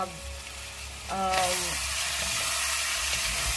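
Chicken liver cooking with red chili sauce in a pan, a steady sizzle and stirring that swell louder partway through, with a brief voice-like tone early on and no clear talk.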